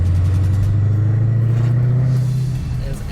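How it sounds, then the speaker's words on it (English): A 2020 Dodge Challenger SRT Hellcat Redeye Widebody engine drones loudly and steadily with a low, buzzing rumble from inside the car, easing off slightly at the end; a distinct supercharger whine is not clearly separable. "you can hear the supercharger. The supercharger whine in this car"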